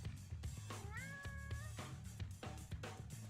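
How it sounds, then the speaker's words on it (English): A house cat meows up close, with a drawn-out, wavering meow in the middle and a few shorter calls around it, over a steady background of game crowd noise. "And even the cat says bye."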